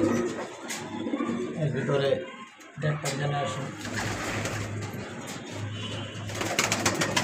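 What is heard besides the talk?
pigeons cooing in a loft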